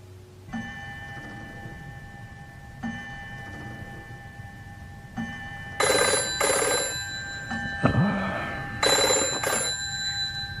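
Old-style telephone bell ringing as a radio drama sound effect, sounding in repeated double bursts that grow louder, with faint ticking beneath and no speech.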